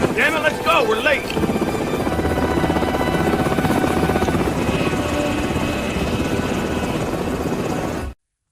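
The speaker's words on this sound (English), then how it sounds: "Unexpectedly, only 2 helicopters arrived." Military helicopters arrive at a jungle landing zone in a war film, rotor thump and engine roar building to a loud steady chop, with shouted voices and music briefly at the start.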